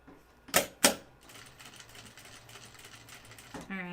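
Sewing machine top stitching a Blanca flight suit: two sharp clatters, then a steady fast stitching whir, with a brief voice near the end.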